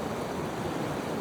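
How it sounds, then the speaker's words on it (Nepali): Continuous rushing of a river flowing beside hot springs at Tatopani in Humla, a dense steady roar of water close by, with no talk. "यहाँ नदी यस्तो बगिरहेछ"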